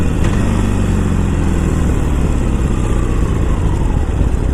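A 2019 Harley-Davidson Iron 1200 motorcycle engine drones loudly and steadily on a test ride, a constant low rumble mixed with heavy wind noise and no change in pace.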